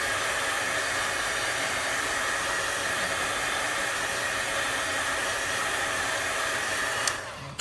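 A hair dryer blows steadily at close range, drying chalk paste on a nautical sign in a continuous loud whoosh that ends with a small click.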